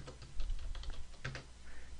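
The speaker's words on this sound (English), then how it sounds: "And if I type in Reuters," Computer keyboard typing at a desk, a quick burst of soft, close key clicks over low background hum, with no voices.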